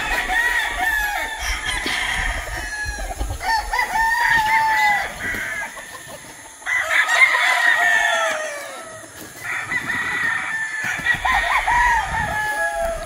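Roosters and hens on a gamecock farm range area, with several long crows repeating from different birds and steady clucking in between, some near and some farther off.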